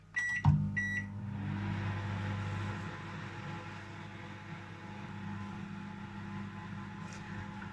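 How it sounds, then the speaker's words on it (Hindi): A few clicks and a short beep, then a microwave oven hums steadily and evenly for several seconds, close by, cooking khoya. "अब इसको माइक्रोवेव में रखते हैं।"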